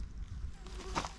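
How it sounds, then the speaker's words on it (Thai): A small insect buzzes close by for a moment over quiet outdoor background noise, its thin whine swelling briefly near the end. "อุ้ยยุง"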